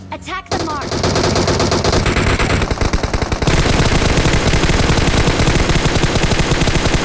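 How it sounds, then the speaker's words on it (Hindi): Rapid bursts of automatic gunfire rattle loudly and almost continuously, with game-style sound effects layered over the shooting in a mobile battle royale game. "लेकिन वो पहले गोली चला देता है"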